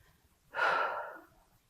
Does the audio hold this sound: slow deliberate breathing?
yes